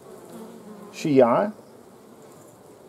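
Honey bees buzzing inside a hive around a queen cell, a faint low hum that swells into a loud close drone for about half a second, then fades back, with a short spoken word over it.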